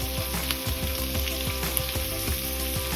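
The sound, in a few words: chicken liver and chillies sautéing in a pan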